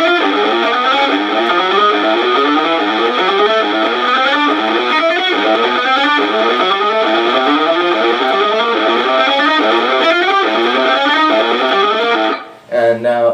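Distorted electric guitar runs a fast, even chromatic alternate-picking exercise for shred lead playing, a steady loud stream of picked notes that stops abruptly near the end.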